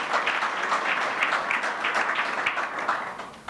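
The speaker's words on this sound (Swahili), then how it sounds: "Tumpigie Madam President makofi tafadhali." A seminar crowd in Nairobi applauding the Madam President, dense sustained clapping from many hands, steady and fairly loud throughout.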